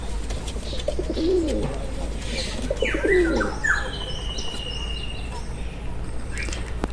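A pet pigeon that has returned home coos in low, rolling calls close by. Chirps and bird calls from other birds come in over a steady background hum.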